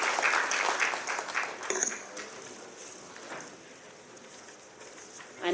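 Applause at the inaugural session of a Rajasthan business event, fairly loud at first and then fading to scattered light clapping over a few seconds before a brief louder sound at the end.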